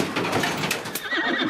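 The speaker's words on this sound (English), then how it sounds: "Some horses are pregnant, others wounded and very sick." Rescued, starving horses neigh in a short, loud whinny, with a trace of hooves clip-clopping underneath and no talk.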